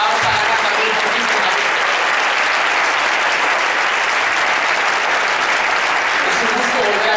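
A political rally crowd in Zaragoza applauds, with loud, dense, unbroken clapping filling the hall from start to finish.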